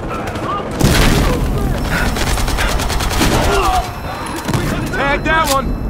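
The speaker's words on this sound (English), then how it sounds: "Grenade going out!" A grenade blast in Battlefield Hardline, a heavy boom amid continuous loud gunfire and combat noise, with shouting voices in game through the chaotic battle.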